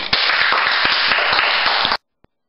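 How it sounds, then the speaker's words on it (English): Brief burst of clapping for a guest on a talk show, loud and dense for about two seconds before cutting off abruptly to silence, with one faint click after. "Come on, guys, everybody give Laura a round of applause."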